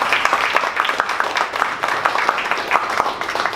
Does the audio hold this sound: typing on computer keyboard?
no